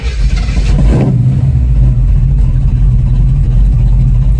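A car engine, with a battery that has barely been used, turns over and catches, then holds a loud, rough, close running roar.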